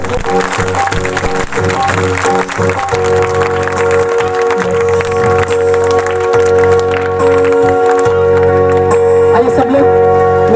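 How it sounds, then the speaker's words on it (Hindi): Congregation at an Easter prayer meeting claps loudly and rhythmically along with music, with sustained tones and voices mixed in throughout. "ताली बजाएंगे जोर से परमेश्वर को"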